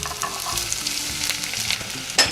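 Cut onions hitting a hot pan for potato bean curry, giving a bright, continuous close sizzle with a sharp clatter near the end.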